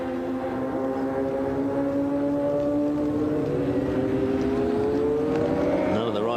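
Racing motorcycles at the 1996 Bol d'Or endurance race on a wet track, engines droning and rising in pitch as a bike passes close, with other machines behind under a steady roar.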